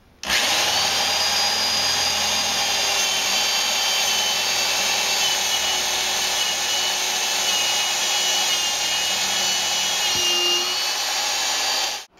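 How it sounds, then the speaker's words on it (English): A 7/32 drill bit bores a hole for a temperature probe wire during a keezer build, a steady loud electric drill whine running continuously for about eleven seconds with no talk. "So let's go ahead and get the hole drilled."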